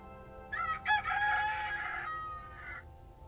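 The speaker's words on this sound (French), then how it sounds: "Les coqs font leur travail." Rooster crowing on a farm in the video game The Stillness of the Wind, one clear, loud cock-a-doodle-doo call rising and then trailing off against a quiet background.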